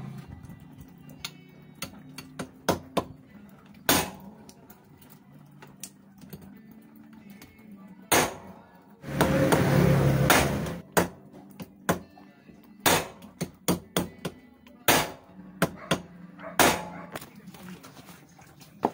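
Sharp metallic hammer strikes on a motorcycle magneto flywheel ring out one at a time at irregular intervals, close and fairly loud, with a burst of louder noise partway through.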